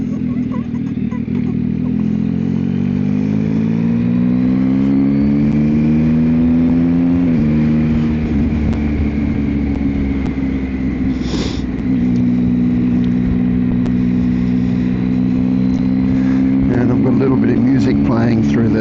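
Steady engine drone from a Yamaha XSR900 motorcycle fitted with a Kelpie exhaust while riding, constant and loud throughout with slight shifts in pitch as the rider changes speed, heard from on the bike.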